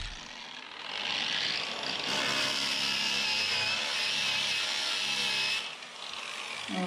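Sandpaper rubbed by hand over a timber wall inside a log house, scouring off old sealant and dark stains; steady, close abrasive scratching that runs continuously for several seconds with a brief pause near the end, no talking.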